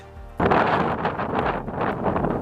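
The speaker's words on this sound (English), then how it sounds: "Yep, that's how windy it was." Strong gusts of wind buffet the microphone in a loud, rumbling roar that swells and dips on open moorland at a Bronze Age stone circle on Dartmoor, with no voices.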